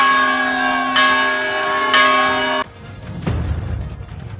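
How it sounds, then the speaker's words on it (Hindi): A large bell newly presented to the temporary Ram Lalla temple at the Ram Janmabhoomi site in Ayodhya rings loudly in two strikes about a second apart, each with a long sustained ringing tone, before the sound cuts to a noisier background. "राम जन्मभूमि परिसर में रामलला के अस्थायी मंदिर के लिए एक अनोखा घंटा भेंट किया गया है, जिसकी आवाज 10 किलोमीटर दूर तक सुनाई देगी।"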